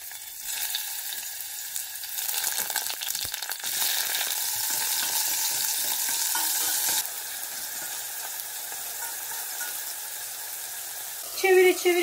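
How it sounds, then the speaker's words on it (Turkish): Eggplant pieces fry in hot oil in a pot while a Turkish menemen is being cooked. A steady, close sizzle lasts throughout, with the sound easing partway through and occasional stirring scrapes. "Yağ ısındığında patlıcanları kızartalım."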